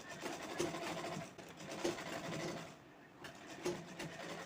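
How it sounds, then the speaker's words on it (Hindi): A sewing machine runs in short quiet bursts while stitching around the round edge of a shagun potli bag, a soft mechanical whirr with brief pauses between runs. "पूरे राउंड शेप में इस तरह से सिलाई लगा देनी है अच्छे से।"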